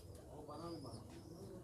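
Gede-wale pigeons kept by a Lahore pigeon fancier coo softly and steadily beneath a voice speaking close by.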